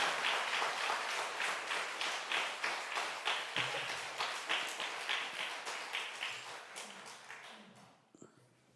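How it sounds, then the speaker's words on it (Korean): Church congregation clapping during a Sunday morning worship service, many hands striking together in a strong, regular rhythmic beat that carries on steadily before fading and stopping near the end. "우리 할렐루야로 박수하면서 완성하도록 하겠습니다."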